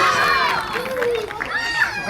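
A zoo audience at a sea lion show cheers and claps in a brief burst, with children's excited shouts and crowd voices rising over scattered applause.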